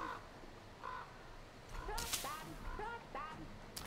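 Crows caw in a game world, a string of harsh repeated calls that grow louder and closer midway, set against low ambient noise with a sharp crack near the end.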